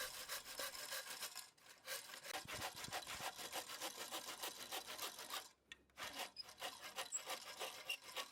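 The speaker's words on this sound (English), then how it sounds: "I just approached the rough shape with a handsaw and then sanded it until I liked it." Handsaw working through wood to rough out coffee table handles: steady back-and-forth rasping strokes, close and fairly loud, with two short pauses partway through.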